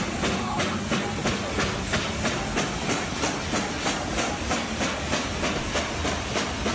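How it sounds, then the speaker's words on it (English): A train passes close by with steady, rhythmic clickety-clack from its wheels over the rail joints and a continuous rumbling hiss, loud and unbroken throughout. "That is a beautiful train"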